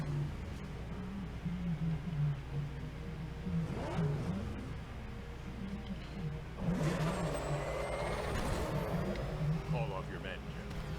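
Military vehicle chase in the video game Batman: Arkham Knight, with a steady engine drone and revving running throughout, swelling louder in places under intermittent talk.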